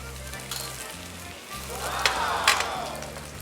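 Beaten egg mixture for a rolled omelette sizzles steadily in a hot pan, a close, continuous frying hiss with faint crackles and light scraping, no talk.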